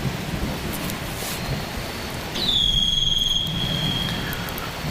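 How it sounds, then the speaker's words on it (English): A small lightning detector beeps out a sustained high electronic alarm tone midway through, ringing clearly over a steady wash of rain and outdoor noise near a fishing spot. "That is a little device that we have that goes off if there's lightning in the area."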